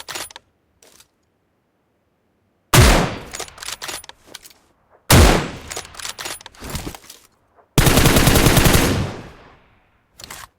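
Automatic weapon sprays in PUBG Mobile, a few faint isolated shots and then three loud sustained bursts of rapid fire separated by short silences, the last burst the longest and densest.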